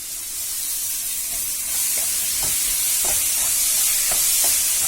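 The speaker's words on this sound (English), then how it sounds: "Fry it in a high flame for some time" Three tomatoes frying over a high flame in a pan for Mangalorean chicken sukka produce a dense, steady hiss and sizzle, with soft intermittent stirring taps underneath.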